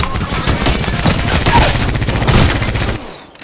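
Rapid automatic gunfire from the Apex Legends video game rattles loudly in a dense burst for about three seconds, then cuts off abruptly into near silence.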